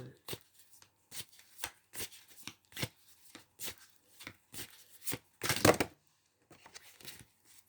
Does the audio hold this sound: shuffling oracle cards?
yes